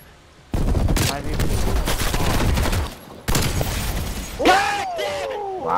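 Gunfire in Call of Duty Black Ops Cold War, loud automatic bursts with a sharp shattering crack, a short pause, then more firing as a voice exclaims near the end.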